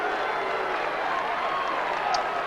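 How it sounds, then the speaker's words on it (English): Steady crowd applause and murmur fill the ground at an Australian rules football match at Footy Park, Adelaide, in 2000, with a broad wash of clapping under a commentator's voice. "there's some applause there."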